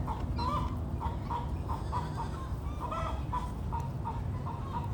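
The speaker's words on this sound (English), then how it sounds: "So we have a flock of 25 guinea hens" A flock of about twenty-five guinea hens calling outdoors, repeated short rhythmic clucking cries over a steady low rumble of background noise.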